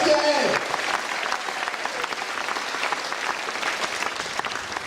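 Sustained audience applause fills a political party congress hall, a dense steady patter of many hands clapping from start to finish, with a brief voice fading out at the very beginning.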